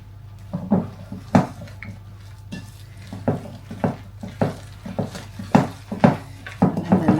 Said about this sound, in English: I'm going to mix it a little bit just so it's all together with your wooden spoon